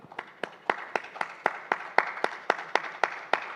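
Steady, evenly spaced claps from a small audience at an innovation day event, about three per second, crisp and close with little else behind them.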